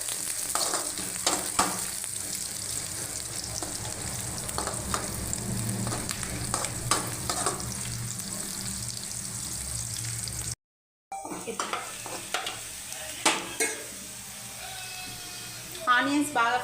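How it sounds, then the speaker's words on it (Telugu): Onions frying in a pan with cinnamon and cloves, a steady close sizzle with occasional stirring scrapes, cut by a brief gap and then resuming with sharper crackles near the end. "ఇవి బాగా ఫ్రై చేసుకుంటున్నాను."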